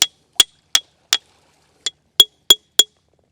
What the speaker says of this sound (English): when I strike this very hard rock using my hammer